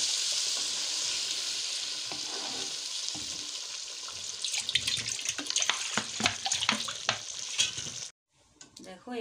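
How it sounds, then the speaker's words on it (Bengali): Hot water poured into a large pot of rice for prawn and egg pulao, a steady rushing hiss that turns busier with clinks and splashy stirring toward the end before cutting out abruptly. "দিয়ে দিচ্ছি গরম জল"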